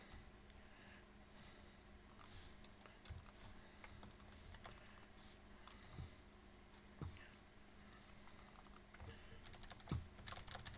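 Keys clatter steadily on a computer keyboard during a StarCraft match, a continuous quiet patter of fast keystrokes with a few sharper clicks standing out, alone and without talk.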